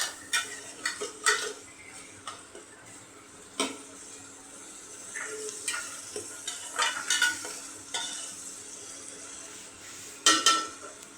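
Boiled noodles are stirred in a frying pan with a utensil, giving repeated scraping clicks against the metal over a soft background sizzle, near and fairly quiet, with no voices.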